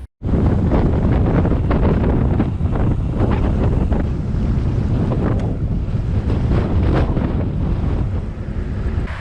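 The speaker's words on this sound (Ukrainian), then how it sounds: "І знову ми боремося проти вітру." Loud, gusty headwind while cycling on a highway in Albania rumbles and buffets the microphone continuously, with rapid irregular bursts of low roaring noise throughout.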